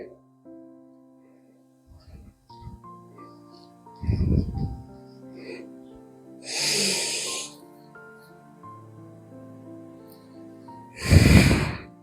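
Slow, deliberate breaths in and out during a beginner yoga routine, with two loud airy exhalations standing out between quieter passages and a soft background tone.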